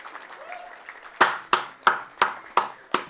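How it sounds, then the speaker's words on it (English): A single person claps six times, sharp and close, at an even, moderate pace, after a stretch of quieter background murmur. "I can actually clap, but nice."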